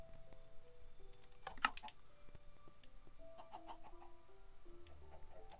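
Minecraft chickens clucking, with soft intermittent clucks and small game sound effects under quiet background noise and no talking.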